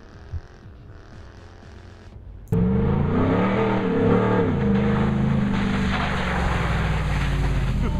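A 2010 Ford Raptor truck engine revs up abruptly after a quieter stretch, then holds a loud, steady, close roar with rising and falling pitch and some wind buffeting on the microphone.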